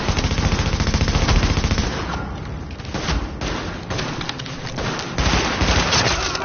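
Rapid automatic gunfire from the video game The Division, loud and dense bursts of shots rattling continuously with a brief lull midway before the shooting resumes, no talking over it.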